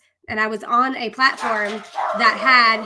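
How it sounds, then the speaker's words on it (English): Dogs barking and yipping at home, repeated harmonic barks running right under a woman's continuous speech. "excuse my dogs"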